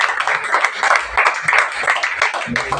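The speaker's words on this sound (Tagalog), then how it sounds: "Malakas na palakpak sa Panginoon." A church congregation at a Sunday service clapping together in a fast, continuous patter of many hands, moderately loud and mixed with voices.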